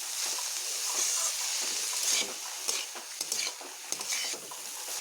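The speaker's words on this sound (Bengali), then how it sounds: "আরও একটু এইভাবে নেড়ে নেবো আরও একটু ভালোভাবে ভেজে নেব" Banana stem curry being stirred and fried in a pan, a steady bright sizzle with a spoon scraping and turning it at irregular moments, close and alone.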